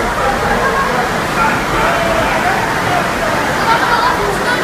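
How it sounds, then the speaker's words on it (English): Dense, steady hiss of heavy rain pouring down close by at a campground restaurant in Peschiera del Garda, Italy, a constant wash of water noise with faint voices mixed in. "It's some campground, and it's just raining non-stop hard."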